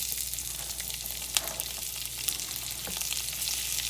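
Onion and cabbage frying in a pan with tomato paste, a steady close sizzle with a few soft stirring clicks, moderately quiet and without talk.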